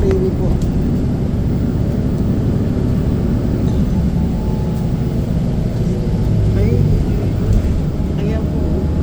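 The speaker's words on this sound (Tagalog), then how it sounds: "Nandito tayo sa freeway po." Steady low rumble of freeway traffic, vehicles passing continuously at moderate distance at night with a half moon, broad and constant throughout.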